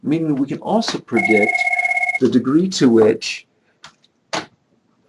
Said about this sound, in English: sorry for the phone call there